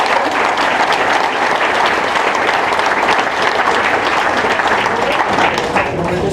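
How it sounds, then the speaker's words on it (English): Loud, sustained applause from a crowd at a community breakfast event, many hands clapping continuously and close with a faint murmur of voices mixed into the steady roar. "a round of applause for everybody."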